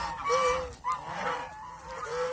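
Geese on a farm honk repeatedly in loud, nasal calls that overlap and rise from a flock, several voices close together over a continuous background, with no talking.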